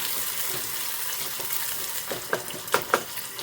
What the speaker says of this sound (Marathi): आता हे मस्त असं आपण भाजून घेते मस्त सुगंध आले गरम मसाल्याचं